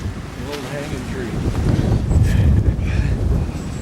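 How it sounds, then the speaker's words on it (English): Strong wind gusts across a microphone outdoors in a cemetery, building into a loud, rushing roar with buffeting noise. "Wow, that wind."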